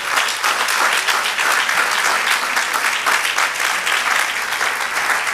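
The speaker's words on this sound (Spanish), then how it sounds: "Dale un aplauso al Señor" A church congregation applauds loudly and continuously during a Spanish-language sermon, dense clapping filling the space without a break.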